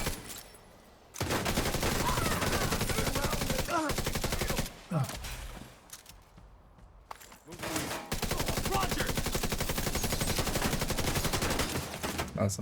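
Dense bursts of rapid automatic gunfire from a video game, loud and sustained in long volleys with brief pauses, with a player's voice occasionally heard over the shooting.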